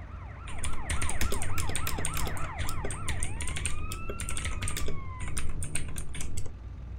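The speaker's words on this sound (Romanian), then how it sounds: "Uitați, vine și ambulanța acum." An ambulance siren in the video game GTA San Andreas Multiplayer wails in repeated rising and falling sweeps, then shifts to a longer drawn-out tone, over constant rapid keyboard typing.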